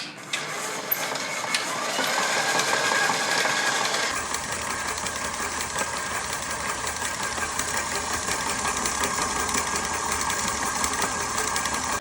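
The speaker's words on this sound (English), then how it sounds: "I'm going to turn on the mixer and cream the butter and sugar together" Stand mixer fitted with a paddle creaming butter and sugar for red velvet cupcake batter, starting with a brief clatter and then settling into a steady, loud motor whir that runs continuously.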